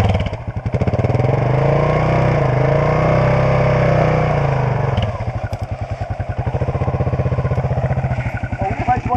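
A motorcycle engine runs steadily and loud after starting, close by at a sand riding training course, its exhaust pulsing in a rapid even beat that rises and settles slightly without any speech.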